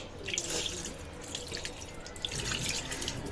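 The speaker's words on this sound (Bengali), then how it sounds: "এবার আমি হাতের সাথে অনেক মশলা লেগে আছে, তো এগুলো একটু ধুয়ে দিই।" Tap water runs steadily into a sink as spice-covered hands are rinsed beneath it, a continuous close splashing and trickling with no voices.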